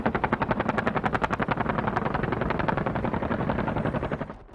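Cobra gunship and Z-10 military helicopters flying in formation make a loud, steady rotor thump with a rapid chopping pulse, mixed with heavy rattling bursts that sound like gunfire, with no voices.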